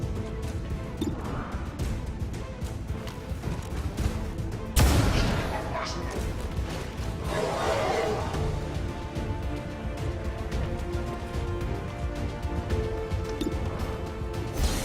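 Gunfire in the video game XCOM 2: one loud, sharp blast stands out midway through a dense, noisy bed of continuous game sound, with other fainter impacts scattered around it.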